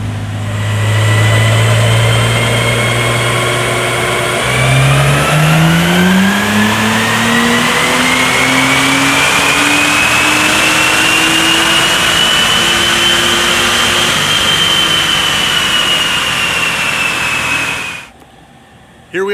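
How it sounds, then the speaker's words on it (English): A tuned Acura NSX runs in fourth gear in all-wheel drive on a Mustang dyno, its engine climbing steadily in pitch from a low drone to a loud high-revving wail over many seconds before cutting off abruptly at the end. "So we are running this in all-wheel drive in 4th gear on the Mustang dyno."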